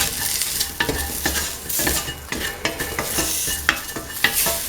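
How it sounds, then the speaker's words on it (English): A spoon stirs spices into a sizzling mung bean mixture in a pan, making repeated scraping strokes over a steady frying hiss, close and clear with no voices. "Mix thoroughly."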